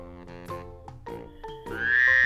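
A frog croaks in a series of loud, close, rhythmic calls, rising into a longer sustained croak at the end, with no voices present.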